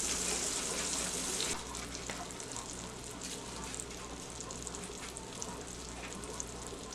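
Morel mushrooms fry in a pan with a soft, steady sizzle that is a bit louder for the first moment and then settles into a quiet, even hiss.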